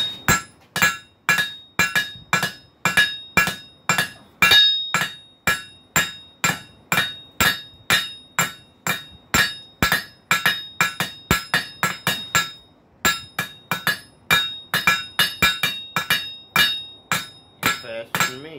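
Rapid, ringing hammer blows strike metal again and again in a steady rhythm, each impact loud and close with a bright metallic clang.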